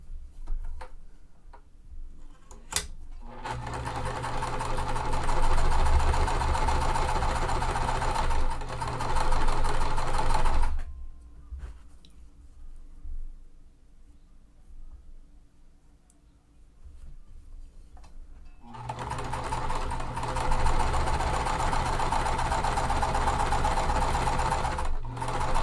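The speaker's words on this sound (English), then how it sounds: "I am again going to chain stitch these all together" A sewing machine chain stitches die-cut quilt pieces together one after another, whirring steadily in two long runs separated by a quiet pause, with a few ticks and clicks at the start.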